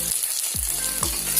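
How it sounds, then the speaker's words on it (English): A vegetable quesadilla roasts in a hot pan, giving a continuous close sizzle with a few low thumps from handling and no talking. "Let this get roasted on both the sides."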